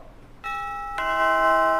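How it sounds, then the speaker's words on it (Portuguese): A two-tone electronic ding-dong bell rings on a Brazilian TV show to announce prize winners, loud and clear, the second tone following about half a second after the first with a sustained ring. "quando você ouvir essa campainha aqui"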